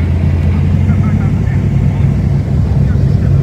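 A V8 car engine idles on New Year's Day, a loud, steady low rumble that runs without a break through the whole stretch. A voice may be talking over it.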